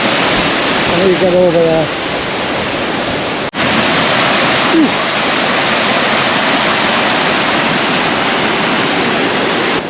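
A mountain stream rushes at an unbridged water crossing in the Langdale Valley, a loud, steady broadband rush. Someone speaks briefly over it and footsteps are heard nearby.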